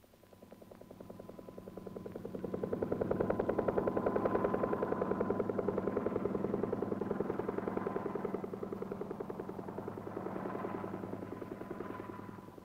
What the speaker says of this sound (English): Air Force helicopters survey and monitor the acres of blast area